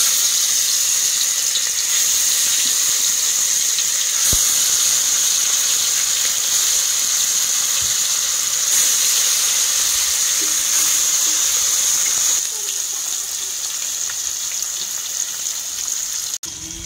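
Marinated snakehead fish frying in hot oil in a pan, giving a steady, loud hiss and sizzle that holds evenly and eases slightly near the end.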